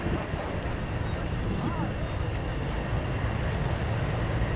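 Antonov An-2 and Aero AT-3 aircraft fly in formation over the runway at the Radom Airshow 2018, a loud, steady engine drone filling the air while a commentator talks over it.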